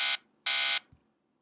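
Two loud electronic buzzer blasts, each a flat steady tone, the first short and the second longer, separated by a brief gap, followed by a soft thump.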